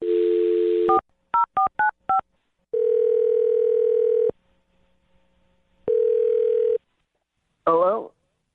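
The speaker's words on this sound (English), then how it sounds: "So let's dial away." A landline telephone dial tone comes on, then a quick run of DTMF keypad beeps, two longer steady tones, and a ringback buzz before the line is picked up.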